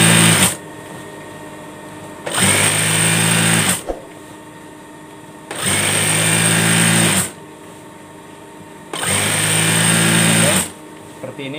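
A sewing machine stitches the second seam of an elastic fitted bed sheet in three separate bursts of steady, close whirring, with a person talking in the quieter gaps between runs.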